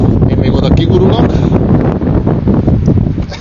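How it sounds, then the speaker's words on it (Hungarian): Strong wind buffets the microphone outdoors in a loud, continuous roar with gusty surges, while people talk underneath. "Kicsit fúj a szél. Nem gyengén."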